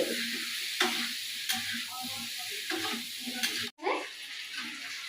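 Oil sizzles in a pan while a spatula stirs it repeatedly in short scraping strokes, before Malabar spinach goes in, with a brief silent gap near the end.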